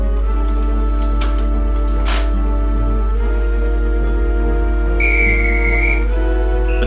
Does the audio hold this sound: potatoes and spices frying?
no